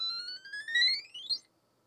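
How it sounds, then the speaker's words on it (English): A TRS-80 Model 4P computer beeping from its built-in speaker, a faint single electronic tone that rises in pitch over about a second and a half before stopping, alone in a quiet room. "it is now beeping out of the speaker"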